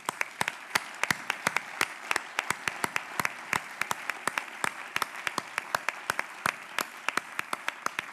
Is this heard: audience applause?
yes